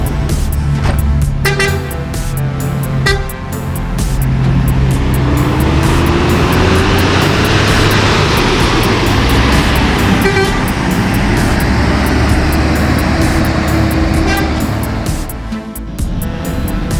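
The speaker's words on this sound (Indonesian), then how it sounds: "bus ANS Royal Class yang berangkat menuju kota Jakarta" A large PO ANS Royal Class coach bus pulls away from a bus terminal with a loud, sustained diesel engine roar and rising revs, along with a few horn toots and nearby traffic noise.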